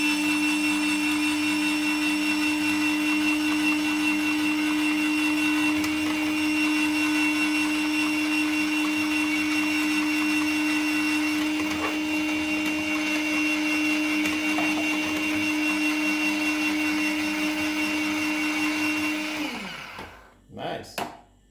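A Silvercrest SGR 150 electric grater with its raw cutting cylinder shredding cucumber, running as a steady, loud motor whine with a high hum for about twenty seconds, then spinning down and stopping with a few clunks.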